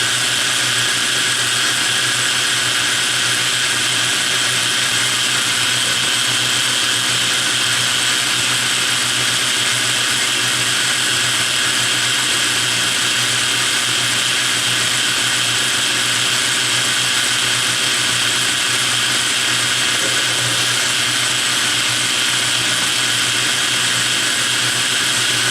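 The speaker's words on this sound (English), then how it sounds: "I started drilling with a stubby length drill, and it's not long enough, so I've just swapped it out for a jobber length drill." A jobber length drill bores into a workpiece on a Myford 10 lathe, producing a constant, even machine whir and hiss that holds steady throughout with no pauses or talking.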